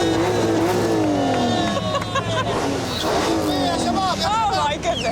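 A car engine drones steadily as a young woman drives in Saudi Arabia, with the engine note rising and falling under excited talking and laughter from people inside.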